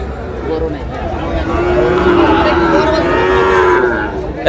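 Cattle, including Sahiwal bull calves, mooing loudly and long over a busy crowd murmur at a livestock market in Dinajpur, a drawn-out low call with more animals lowing nearby.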